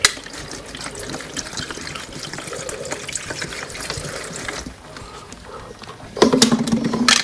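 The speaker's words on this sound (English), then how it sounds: "I'll make sure there's plenty of water in here so the humidity will be good." Water is poured into an egg incubator to raise the humidity, giving a steady splashing trickle that fades off, then a louder gush of pouring near the end.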